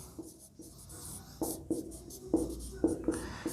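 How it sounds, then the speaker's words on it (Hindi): Pen or chalk writing out a Class 12 vector maths solution, a string of short scratchy strokes and taps in an irregular rhythm, close and clear in a quiet room with no talking. "अब यहाँ लिखेंगे"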